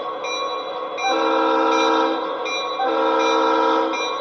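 Horn of an MTH Amtrak FP45 model train locomotive sounds two long, loud chordal blasts, steady and close, with a short gap between them and no talking.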